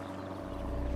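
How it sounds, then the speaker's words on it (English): An airplane flies overhead in remote grizzly bear wilderness, a brief low steady engine drone that hums evenly and grows slightly louder. "I heard the sound of an airplane"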